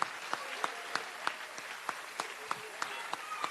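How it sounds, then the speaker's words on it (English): Applause for two elementary school citizenship award winners at a fourth grade promotion ceremony, with a steady wash of clapping and sharp individual claps standing out at a regular beat throughout. "Can we have another round of applause for our 2 Citizenship Award winners, Miliana Embick and Kieran Albright."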